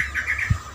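A young cendet, a long-tailed shrike, gives a quick run of four short, bright chirps close by, followed by a soft low thump.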